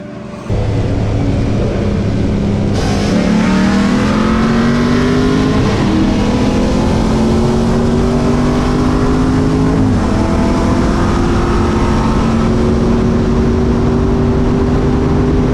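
Street-racing cars, a Camaro and a Mustang 5.0, accelerate hard from a loud launch, their engine notes climbing in long pulls through several gear changes, roaring close and sustained.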